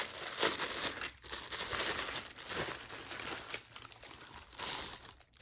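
Plastic wrapping crinkles and rustles up close as a small unboxed speaker package is opened, in a continuous run of dense crackling with short pauses.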